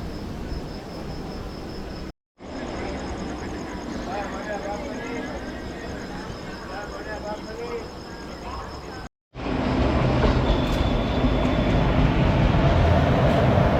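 A train rolls through Bhimavaram Town railway station with a continuous rumbling roar and a faint high tone above it, broken by two brief cuts. The sound grows louder and fuller toward the end.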